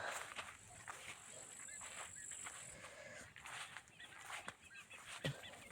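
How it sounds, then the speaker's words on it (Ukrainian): A black hen wanders about a farmyard, with soft scratching footsteps and occasional faint clucks under quiet outdoor ambience, all low and somewhat distant. "там я ж кажу, що чорненька там курочка ходить"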